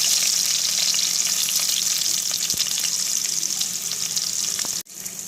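Onions drop into hot oil for an egg, tomato and drumstick curry, giving a loud, dense, continuous sizzle close by that hisses evenly and fades slightly before a sudden cut.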